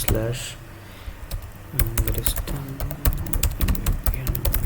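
Rapid typing on a computer keyboard, entering a GitHub link into a PuTTY terminal while setting up an OpenVPN server on AWS; clicky keystrokes come close and loud in irregular bursts, with a brief pause early on.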